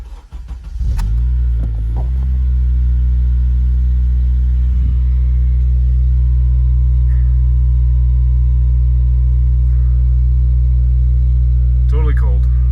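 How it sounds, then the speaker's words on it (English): A cold 2011 Honda Civic Si engine idles with a loud, steady low rumble after starting, holding an even drone throughout with faint brief sounds near the end. "I will cut the video after a few seconds of idling"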